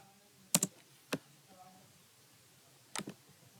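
A few sparse keystrokes on a computer keyboard while a title is entered into an Excel spreadsheet cell, with short clustered clicks separated by quiet gaps, faint and close.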